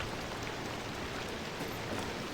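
Rain falls in the driving video game Pacific Drive, a dense, even hiss of drops on surfaces that fills the scene at steady loudness, with no speech.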